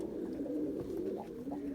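Pigeons coo continuously at moderate volume in a loft setting, a steady low rolling murmur of several birds overlapping with no pauses and no talk.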